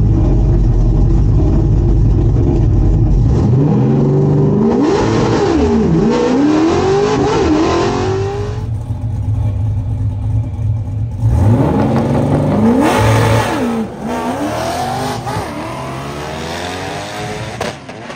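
A 1968 Ford Torino GT with a 302 V8 and a T5 manual launches hard down a drag strip on a test-and-tune night. The engine roars loud and close and revs up through several gear changes as it pulls away.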